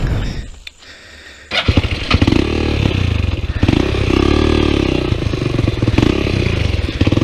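Four-cylinder Yamaha XJ motorcycle engine, a brief quiet lull, then it starts up and runs with a loud, rough, close-up idle, its throbbing pulses and blips of revving continuing to the end.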